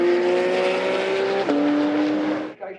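Race cars at full throttle on the start-finish straight at a Nürburgring race, a loud, sustained engine howl with a pitch drop as one passes close by, then cutting off sharply near the end.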